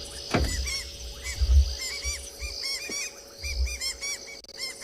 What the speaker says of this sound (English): Southern white-crowned shrikes.